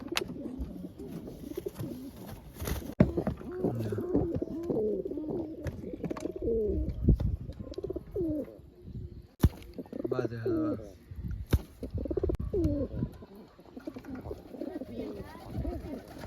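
Pigeons coo in a loft, with soft, throaty, repeated coos close by and a few sharp knocks or flaps, while someone talks intermittently over them.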